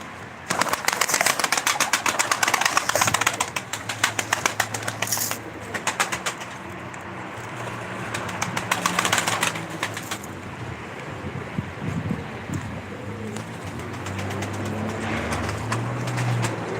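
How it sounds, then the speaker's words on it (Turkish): Several pet pigeons or doves coo softly in repeated low phrases, with occasional wing flaps and a busy rattling background early on, fairly close and without talk. "Arkadaşlar dediğimiz gibi bu benim beslediğim kuşlardan bir 3-4"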